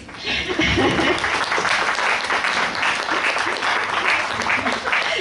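Audience at the premiere of the play "Śluby Panieńskie" in Łochów claps to encourage young actors: dense, continuous applause that starts after a brief voice and stays loud and even for several seconds.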